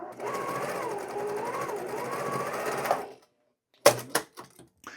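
A sewing machine chain-piecing quilt pieces whirs steadily up close for about three seconds, then stops, followed by a few sharp clicks and handling knocks.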